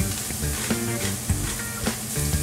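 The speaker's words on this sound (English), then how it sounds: "everything's been sautéing for about 2 to 3 minutes" Garlic and cracked black pepper sautéing in a pan make a dense, steady sizzle, with a few soft stirring knocks coming through near the listener and no talk.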